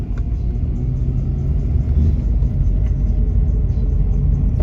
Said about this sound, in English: this thing's just kicked into first gear. It like stops the car.